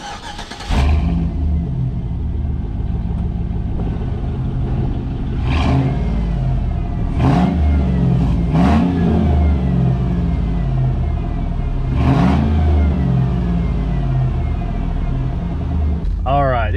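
A Chevy SSR with a 5.3 liter V8 idles with a deep rumble, then is revved in several sharp climbs that fall back. A voice talks over the engine throughout.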